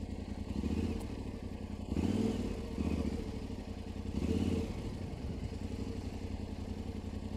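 An adventure motorcycle rolls downhill during riding drills with a low engine rumble and clatter, swelling in a few short surges between quieter stretches, heard up close.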